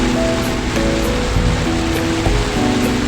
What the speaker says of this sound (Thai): เพราะว่ามันฝนตกแรง